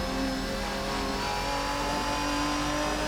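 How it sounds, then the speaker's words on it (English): Ferruccio 57 race car engine in the RSS GT video game, a loud sustained mid-pitched drone with a high straight-cut gear whine riding over it, steady and continuous with no voices. "In addition to the engine sound, you get some whine from the straight cut gears in the gearbox."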